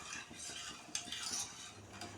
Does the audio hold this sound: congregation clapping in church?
no